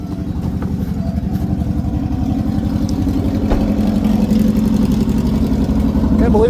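A 1958 Goliath car engine idles close by with a steady, rapid low-pitched chugging pulse that holds constant throughout, with voices talking briefly over it.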